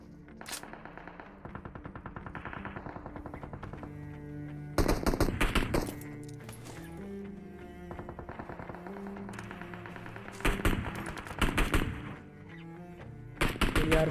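Automatic gunfire from PUBG Mobile battle-royale gameplay, arriving in loud rapid bursts a few seconds apart over a steady bed of game sound and engine-like drone.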